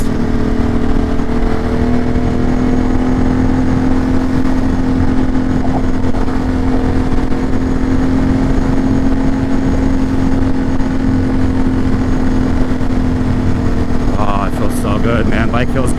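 Ducati motorcycle cruising on a road, a steady close engine drone and wind rush through the whole stretch, with a steady tone that holds as the bike keeps a constant speed.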